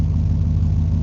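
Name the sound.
1994 Ford F150 V8 engine idling after new spark plugs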